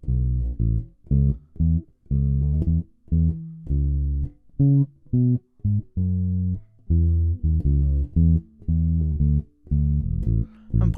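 Fender Road Worn Mustang bass with new strings played alone in a steady run of plucked, plunky notes with short gaps, close and fairly loud, no talking.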